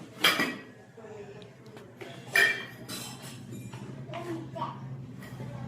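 A child bangs and clinks metal pots and utensils at home in a few sharp, scattered strikes, with a low steady hum and some voices in the background.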